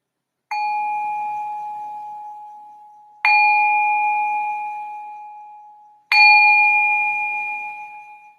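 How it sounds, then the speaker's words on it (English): A meditation bell is struck three times at a slow, even pace, each stroke a clear ringing tone that fades over about three seconds before the next, heard alone with no talk. "Just ring this bell to signal the start of the meditation."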